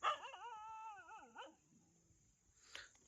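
A dog in a maize field lets out a long, wavering whine that slides down, followed by quieter murmurs and then a sharp single bark near the end, all faint and somewhat distant.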